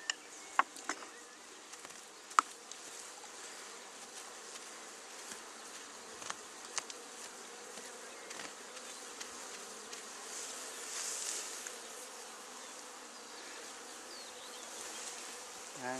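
Honeybees from a swarm being shaken into a nucleus hive buzz steadily around the listener, a soft continuous drone with a few sharp clicks and knocks scattered through it.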